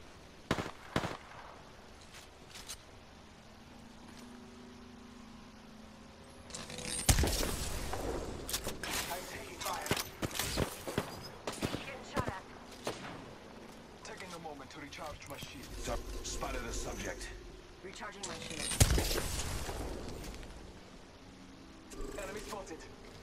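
Gunfire in an Apex Legends ranked match: sharp, scattered shots and short bursts crackling at varying distances, with louder clustered volleys midway and near the end, under an ongoing voice.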